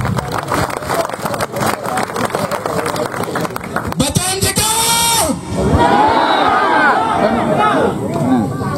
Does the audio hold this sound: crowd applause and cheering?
yes